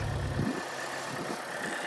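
A 2004 Infiniti G35 RWD engine, shaking with a possible misfire, starts with a heavy low rumble that drops off after half a second into a steady idle hum with a slightly uneven, pulsing undertone.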